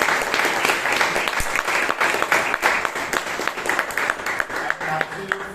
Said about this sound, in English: So please give all yourselves a huge round of applause.